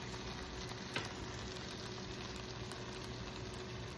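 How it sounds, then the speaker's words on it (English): Tomatoes sauté lightly in a pan for avocado toast, producing a faint, even sizzle and hiss with one small knock near the start and no voices. "I'm just actually sauteing my tomatoes just a little bit."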